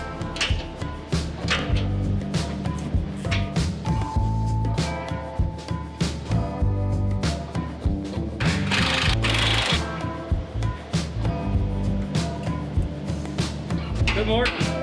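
An impact wrench rattles in repeated short bursts while tightening bolts underneath a Bullnose Ford Bronco, loud and close, separated by brief pauses, with workshop clatter in between.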